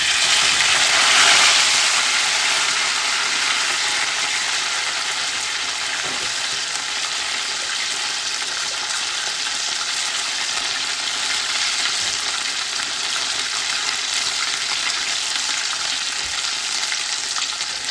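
Peach mango hand pies frying in hot oil make a steady, close sizzle and crackle that holds evenly throughout, with no talking.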